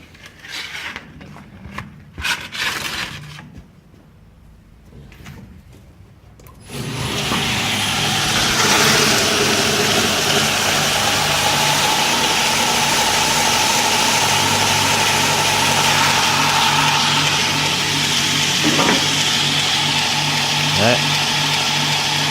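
A Fire Ant grinder spins up and grinds a piece of jarrah wood, a loud steady motor whine with rasping abrasion that starts after a few seconds of quieter handling noise and talk, then runs on continuously.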